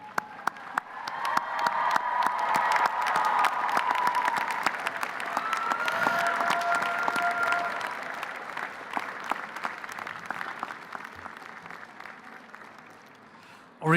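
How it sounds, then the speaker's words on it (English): Graduates and faculty at a university commencement ceremony give a sustained round of applause, a dense wash of crowd clapping lasting many seconds, with voices audible within it before it tapers off. "join me in a round of applause to honor those who"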